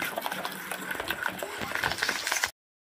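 Lentil batter with turmeric, chili powder, ginger and garlic paste is whisked steadily in a bowl, making a continuous scraping and clattering sound at moderate loudness that stops abruptly.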